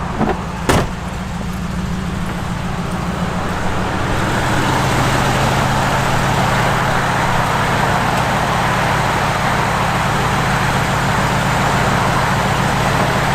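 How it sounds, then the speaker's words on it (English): A 1965 Mercury Comet Caliente's heater blower motor runs with a steady, even whoosh and hum. It stays constant throughout, after a brief click at the start. "the blower motors do work."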